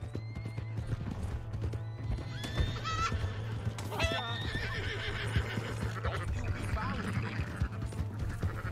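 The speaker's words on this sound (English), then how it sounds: "That's my horse!" Horse in Red Dead Redemption 2 neighs and whinnies over steady clip-clopping hooves, with a loud constant engine-like drone beneath and a voice talking in places.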